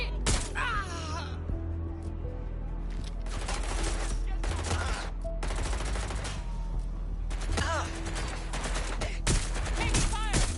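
Gunfire rattles through a firefight in the video game Watch Dogs Legion, with repeated bursts of automatic fire and scattered shots in clusters, loud and close, mixed with game voices grunting and gasping.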